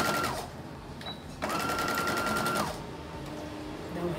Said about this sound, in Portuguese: E vou começar a minha costura desse jeito. Com meio pezinho de máquina também